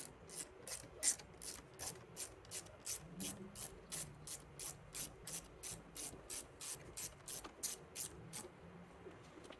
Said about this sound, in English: we got those bolts tightened up